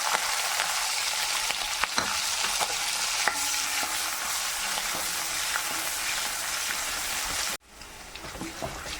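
Sliced green chilies frying in coconut oil with mustard seeds and curry leaves for a Kerala puli inji curry, a steady close sizzle with scattered small pops and stirring scrapes, cut off abruptly near the end, after which it continues fainter.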